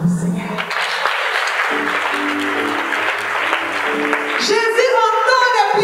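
A church congregation applauds in praise of the Lord, with dense, continuous clapping throughout and a voice speaking and calling out over it.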